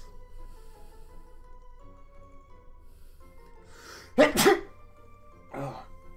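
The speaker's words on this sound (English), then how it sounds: "I sneeze." A single sharp sneeze bursts out in a quiet room with faint background tones, followed a moment later by a shorter breathy snort or sniff.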